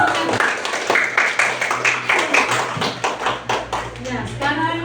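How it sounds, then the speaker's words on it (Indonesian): A primary school class claps for a student group after presentations, with rhythmic, fairly close clapping from a small group of children mixed with faint children's voices. "Tepuk tangan dulu untuk kelompok"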